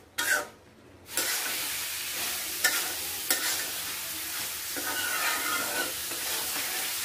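Beef liver stir-frying in hot oil, a steady close sizzle with scraping stirs and brief clatters, after a short quiet pause at the start.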